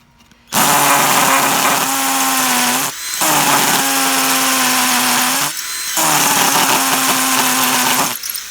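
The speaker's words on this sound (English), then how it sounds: "So a good idea to turn it on to the hammer action." A budget Ferrex 14.4-volt cordless hammer drill whines loudly in three long bursts with short pauses between, its hammering action grinding steadily into brick.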